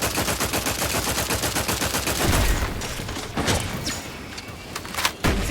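Sustained rapid gunfire during a firefight in The Outer Worlds 2, a dense, loud automatic barrage that thins into scattered shots and impacts near the end.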